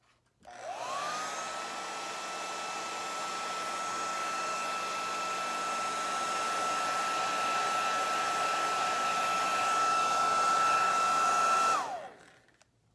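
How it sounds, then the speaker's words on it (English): Blow dryer drying a freshly painted watercolor card, switching on with a rising whine, then a steady close, loud airy hum held for about eleven seconds before cutting off. "I'm gonna just grab the blow dryer and give it a good dry."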